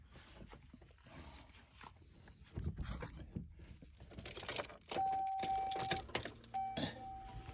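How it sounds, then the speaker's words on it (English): Car keys jangle inside a vehicle and the ignition is switched on, bringing up a steady electronic tone that stops and then returns; the sounds are close and moderately loud, with no talking. "let us go back inside and turn on the ignition."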